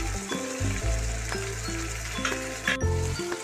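Onions and green chillies sizzle steadily in a hot pan of cumin and potatoes, a continuous close frying hiss over background music.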